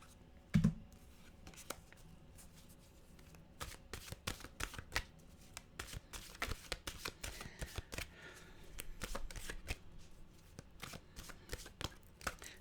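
Mantra cards shuffled by hand in a quiet room, a near, continuous run of quick papery riffles and flicks with short pauses, growing busier toward the end.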